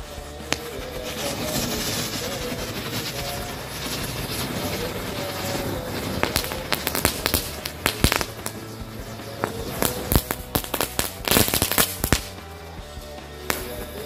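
A pack of Happy Thunder firecrackers goes off in a rapid, irregular string of sharp bangs, building into dense crackling bursts toward the end.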